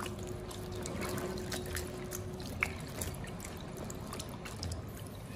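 Green peppers being rinsed in a basin of water, a steady soft splashing and trickling close by with small drips and one brief clink, continuous throughout with no talking.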